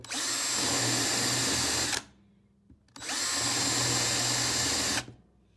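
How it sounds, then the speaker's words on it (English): Power drill boring into a 3D-printed plastic water feature for a Battletech base, two loud sustained whirring bursts of about two seconds each, separated by a short pause, close up. "by drilling out the water feature"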